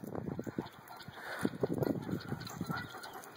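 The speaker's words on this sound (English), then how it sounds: "Herd of guineas!" Guinea fowl call together as a flock, a dense chorus of harsh, rhythmic chattering cries at moderate distance, continuous throughout, no talking.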